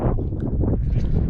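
Wind gusts hit the microphone on the summit of Baldy during a 50K trail run, a loud, close, low buffeting rumble with no voices.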